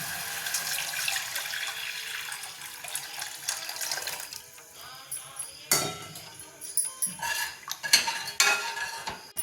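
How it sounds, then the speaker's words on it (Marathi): Moong dal stock poured into a hot oil tempering in a pan for a mung bean soup: a steady watery rush and splashing with a few utensil clinks, close and moderately loud. "पाणी आटत आलंय, आपण मुगाचा स्टॉक ओतू."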